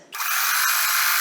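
A machine starts abruptly and holds a steady, high-pitched whir for about a second while sewing quilt fabric strips for a mosaic quilt block, close and loud with no talk.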